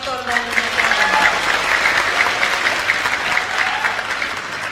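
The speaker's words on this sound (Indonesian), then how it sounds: "Tepuk tangan dulu buat rektor dan jajarannya." Dense, steady applause from a large graduation audience honoring a university rector and staff, continuous and full throughout with a voice briefly audible at the start.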